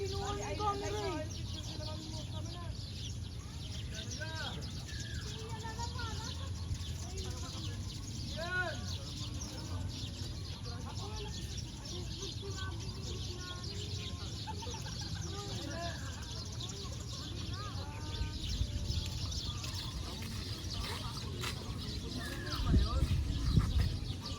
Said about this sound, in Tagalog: Oh, ang daming ibon.